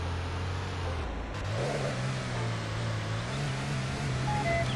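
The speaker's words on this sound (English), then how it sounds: "I think I want to go the off-road car." An off-road car engine in Go Vacation, driven through a mountain resort, hums steadily up close, with its revs rising and falling a little and no talk over it.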